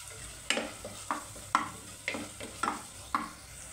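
Tomato pieces for pasta are stirred in a hot pan, with about seven distinct scraping strokes in a steady rhythm over a soft sizzle, heard close and alone.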